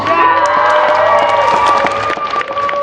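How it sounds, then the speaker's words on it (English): Loud cheering and whooping from a crowd at a stage hypnotism show, with sustained shouted voices and occasional claps mixed in. "Let's give our stars a big round of applause"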